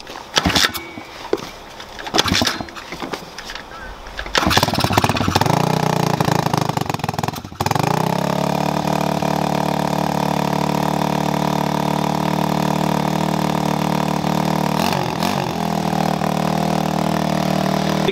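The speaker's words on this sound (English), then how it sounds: "Let's actually see if we can kick it on real quick." An Apollo or TaoTao Chinese pit bike engine is kicked over with a few sharp thumps, then catches, revs briefly and settles into a loud, steady close idle with a small blip near the end.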